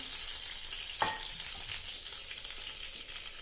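Ghee heating in a pan while making atta pinni: a steady, fairly quiet sizzling hiss with one small knock, no voices.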